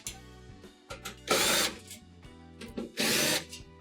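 Power drill backing 1/4 inch screws out of a Whirlpool stove's top panel, several short whirring bursts with two longer, louder high-pitched runs between pauses, close and without speech.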